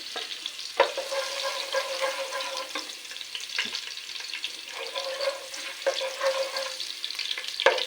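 Ginger frying in a pan with oil as the start of a bitter gourd dish, a fairly faint, steady sizzle broken by several stirring scrapes, with no talk.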